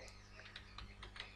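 Keys tap out a quick, uneven run on a computer keyboard while a web address is typed into a browser tab, close by and quiet, with a faint background hum.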